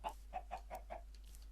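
Chickens cluck in the video game Minecraft, five short, evenly spaced clucks close by and fairly quiet over a low steady hum, with no talking.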